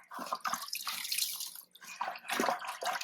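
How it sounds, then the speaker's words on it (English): Water poured into a reef tank canister filter, an uneven splashing and gurgling flow that rises and falls in short bursts, close and fairly quiet. "we are going to add some more water"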